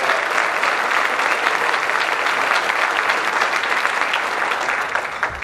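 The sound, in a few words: applause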